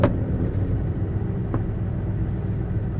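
Toyota 1UZ V8 turbo drift car with the boost turned up, a loud steady engine rumble and roar throughout, close by, with no talking.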